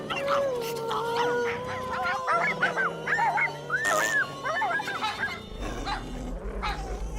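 Cartoon dogs bark, yip, whimper and howl in a rapid, overlapping clamor, with some long drawn howls and short yelps over a background score, all close and fairly loud.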